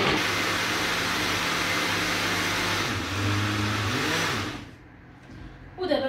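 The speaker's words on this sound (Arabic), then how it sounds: "وعاد نعاود عاوتاني نطحن هادشي اللي عندي" Electric blender grinding dates into juice, a steady loud whirring motor roar that dips in pitch midway, then stops and leaves quiet room tone with brief noise at the end.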